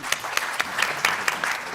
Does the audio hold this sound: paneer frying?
no